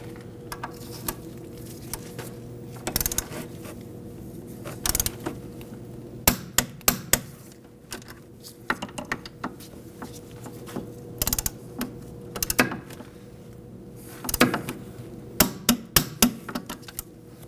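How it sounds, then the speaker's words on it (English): Sharp metallic clicks and taps come in irregular bursts as a torque wrench tightens the front brake caliper bracket bolts on a 1993-2001 Subaru Impreza, over a quiet steady hum. "Now we can torque both our bracket bolts to 58 foot-pounds."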